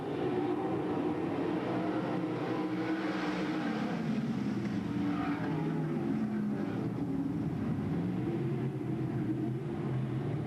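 Race cars at Bedford Speedway roar off a green-flag start in 1994, a loud, continuous blended engine drone with rising and shifting pitch filling the whole stretch, recorded from the stands with no clear talking.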